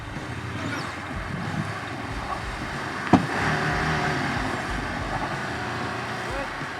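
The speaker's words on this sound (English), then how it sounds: "Here we are using the side-by-side and the tow strap to pull it out." A side-by-side towing a Porsche Macan out of deep snow with a tow strap: a steady low engine rumble with wind noise and a brief sharp thump partway through, as the strap tightens and the vehicles strain in the snow.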